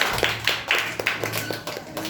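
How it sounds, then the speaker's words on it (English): An audience at a school public speaking competition claps in a brisk, rhythmic beat of sharp hand claps, with voices mixed in underneath. "Well done, clap for Ayush, senior."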